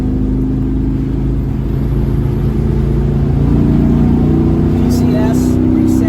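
A 1970 El Camino fitted with Gear Vendors overdrive and PCS paddle shifters pulls hard through the gears on a test drive, its engine a loud, steady low drone rising in pitch from inside the car.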